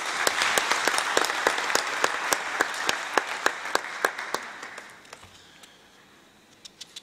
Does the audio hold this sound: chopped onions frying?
no